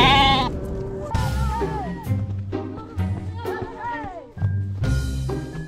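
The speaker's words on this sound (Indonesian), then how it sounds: "Wah, gawat. Kambingnya masuk ke hutan." Sheep bleat repeatedly near a forest edge, several loud wavering calls in close succession, overlapping with one another and nearby voices.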